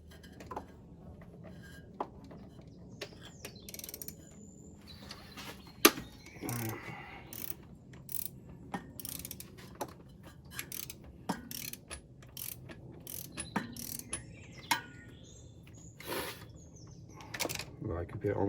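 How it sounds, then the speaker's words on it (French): A wrench clicks while tightening the belt tensioner screw on a Mercedes 500 SL R129 engine, giving scattered sharp ratcheting ticks and metallic knocks up close in a quiet garage, with someone talking in French between them. "on vient serrer avec cette vis là"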